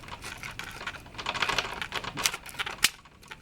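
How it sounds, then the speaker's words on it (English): A small groove being cut into foam, heard as a close run of quick, uneven scratchy ticks and light scraping bursts at low volume. "Cut the little groove."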